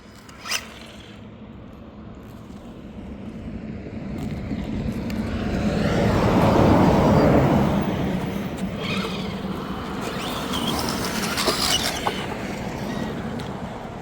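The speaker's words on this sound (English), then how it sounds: "it does sound like there's a gear grinding when I get on it" An RC car's drivetrain grinding under throttle: a rough, raspy whirring that builds to a loud peak in the middle, then eases off and rises again, with a few sharp clicks and no voices.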